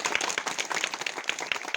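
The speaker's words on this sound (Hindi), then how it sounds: "मैं जोरदार तालियों से इनका स्वागत करें" An audience gives a steady round of applause welcoming the district development commissioner at a public darbar in Panchari; many hands clap quickly and evenly, at moderate volume and fairly close.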